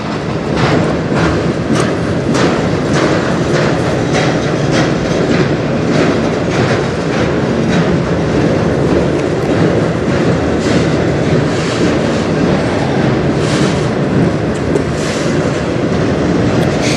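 CN freight train 492 of empty truck frame cars rolls past on the Strathroy Subdivision, a steady loud rumble with continuous clickety-clack of wheels over rail joints filling the whole stretch.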